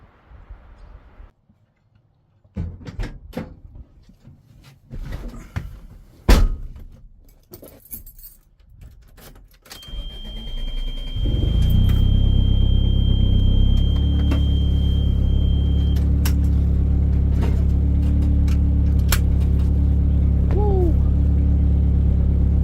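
1990 Toyota Tercel on a test drive, opening with keys jangling and handling noises, then the engine starts around midway and settles into a loud, steady running rumble that continues to the end.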